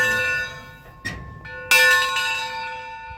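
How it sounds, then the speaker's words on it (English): The bell of a 1940 ALCO steam locomotive, number 63, clangs several times, and each ringing strike decays slowly. The strikes are close and fairly loud with no talk. "Oh, bell's working, that's good."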